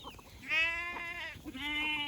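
Goats grazing on a grass plot give two clear, wavering bleats close by, the second longer and drawn out, over quiet background with no speech.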